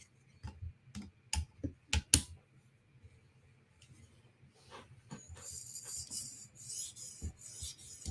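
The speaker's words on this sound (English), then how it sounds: "So I'm just going to do 1 pass per side with the 800 grit stone." A knife is sharpened on an 800 grit whetstone: a run of sharp, separate scraping strokes at first, then a softer continuous rasping hiss toward the end, fairly quiet and close.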